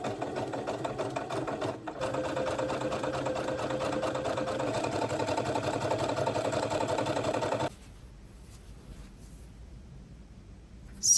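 A sewing machine runs in one long steady whirring stitch, sewing shirring rows on a dress cuff, then stops abruptly and leaves near silence.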